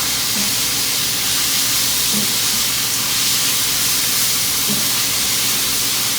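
Onion sizzling in hot oil, a loud, steady, hissing fry that holds constant throughout, with faint soft knocks now and then.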